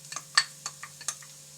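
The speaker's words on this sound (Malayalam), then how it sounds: "അത് ഞാൻ ഇതിലേക്കൊന്ന് ചേർത്ത് വഴറ്റി കൊടുക്കുകയാണ് കേട്ടോ" Garlic paste and soya balls being stirred and sautéed in a pan, with a handful of soft scraping stir strokes over a faint sizzle and no talking.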